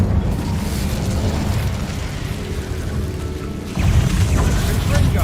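Incendio fire spell cast in Hogwarts Legacy, a loud sustained roaring, rumbling burst of flame that swells stronger partway through and keeps churning steadily.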